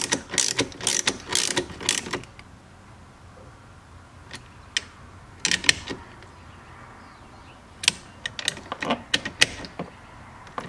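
A ratchet tightens the battery terminal post on a Chevrolet Corvette C7 in several bursts of quick, close metallic clicks, separated by quiet pauses.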